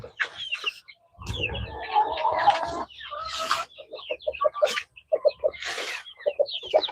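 An all-white chicken on a farm clucks in short, irregular bursts of fowl calls, fairly near and moderately quiet, with pauses between phrases and no talking.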